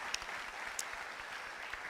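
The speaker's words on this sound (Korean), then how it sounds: "주님께 영광의 박수 돌리겠습니다" Congregation applauding in a church, a steady wash of clapping from many hands at moderate distance, with a few sharper claps standing out, no talk over it.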